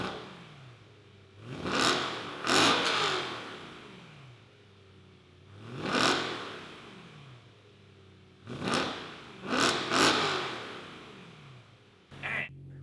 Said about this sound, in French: J'utilise le micro-canon pour enregistrer le son de l'échappement.